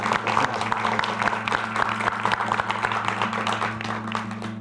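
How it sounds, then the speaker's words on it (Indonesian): Audience applause at a team battle-round event, a dense steady wash of many hands clapping from start to finish, with a low steady hum underneath. "Jadi tepuk tangan dulu."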